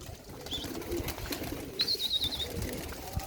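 Basrawi pigeons on a rooftop loft give a few soft, fairly distant coos and chirps over light background noise, with faint wing rustling and no speech.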